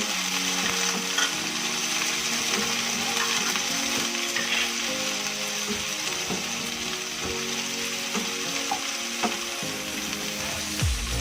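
Chopped green and red chilies sizzle and fry in a pan while being stirred for sautéed papaya flowers, a steady close crackle with occasional scraping of the utensil, no voices.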